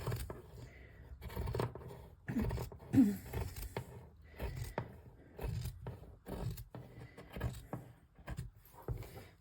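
Fabric scissors trimming the edges off cotton fabric, a series of crisp snipping cuts in an irregular rhythm, close and distinct.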